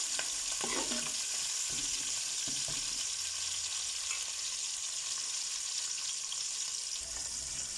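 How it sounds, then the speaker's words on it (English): Bright, steady sizzling of onion and chili frying in a hot pan, with a few soft clanks of stirring early on. "my onion and chili. I'm going to let this fry up."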